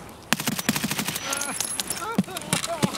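Gunfire from the video game Escape From Tarkov, a rapid string of sharp shots and bursts with metallic ringing tails, loud and close, coming in irregular clusters over a busy background of game sound.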